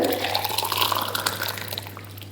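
Hot water pours steadily into a bowl for making jelly, a close, continuous gurgling splash with a constant low electrical hum underneath.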